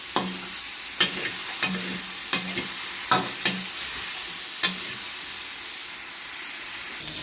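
Meat frying in cooking oil in a pan as the first step of Filipino pakbet, with a steady close sizzle and several sharp spatula clacks scattered through it; no one speaks.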